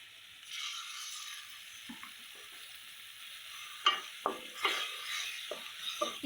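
Ground green paste is sautéed with onions in a pan. A soft sizzle runs under a series of sharp scrapes and clinks as a utensil stirs the mixture, the knocks getting louder and closer together toward the end.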